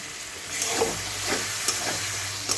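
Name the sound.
masala with cashew and poppy seed paste frying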